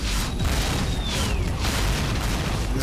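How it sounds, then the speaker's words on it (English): Missiles launch and explode in the space combat game World Destroyers, producing a continuous loud rumble of booms and bursts with a descending whistling streak, dense and close, with no talk. "Time to let loose with some missiles."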